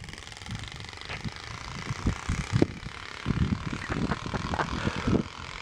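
A rapid fluttering rattle from a Pokemon card taped to flap in bicycle spokes builds and surges like a small motorcycle engine, close by, with uneven bursts as speed changes.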